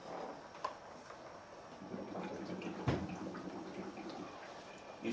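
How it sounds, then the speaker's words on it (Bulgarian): A water pump running during setup of a beeswax foundation press, with 15-20 litres of water pushed out through the hoses; a steady low wash of flowing water and drips carries on throughout, with a soft knock near the middle. "Включваме помпата."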